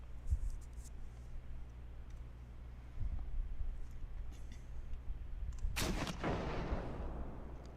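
In the Armoured Commander II tank game, a 37mm tank gun fires a high-explosive shell. One loud, sharp blast comes late, after a few faint clicks and a low background hum.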